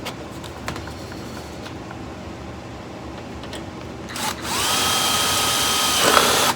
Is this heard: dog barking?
no